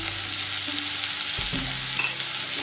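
Chopped onions and green chillies sautéing in a hot pan for potato masala curry, a loud continuous sizzle with a few stirring scrapes, no voices.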